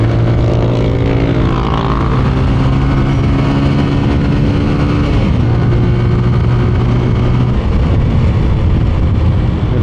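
A 14-year-old Kawasaki Rouser 135LS motorcycle engine runs close by with a strong, steady drone, its pitch rising and falling as the rider revs it and then settling back down.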